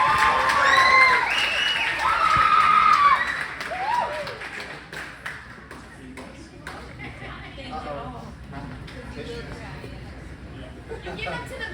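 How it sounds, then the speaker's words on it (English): Wedding guests at a reception clap and cheer for the best man, a loud burst of applause with whoops and chatter that gradually thins into scattered claps and murmuring voices. "please keep that round of applause going"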